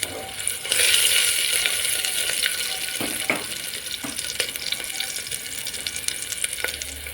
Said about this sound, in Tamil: வெங்காயம் நல்லா பொரியட்டும், நல்லா வணங்கட்டும்.